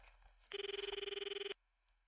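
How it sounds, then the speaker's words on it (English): Phone ringing in the video game I/O revision II: a single loud electronic trill lasting about a second, with rapid pulsing, standing alone and then cutting off abruptly. "wasn't the phone ringing or something?"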